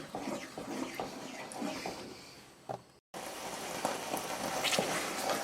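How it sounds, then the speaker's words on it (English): Thick chyawanprash jam mixture of herbs and sweetener bubbling on a low flame, soft irregular popping and sizzling crackles close by, steady throughout with one brief dropout, no talk. "So now the mixture is bubbling."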